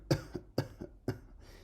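Someone imitates a whooping cough with three short, forceful coughs at an even pace, each followed by a softer catch, close and fairly quiet.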